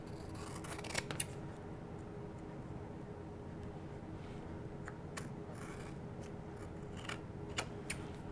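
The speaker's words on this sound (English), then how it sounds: "then trim it back with my scissors" Scissors trim rubber stamp material mounted on a backing, giving a few sharp close snips spaced apart over a quiet room background, with a cluster of cuts near the end.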